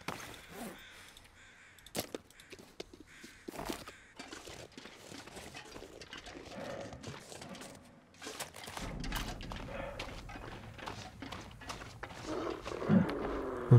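Wolves in a survival video game set in extreme cold, near a contaminated zone of rotten trees, give scattered growling, roaring calls in short bursts over a low ambient bed, with occasional sharper caw-like cries.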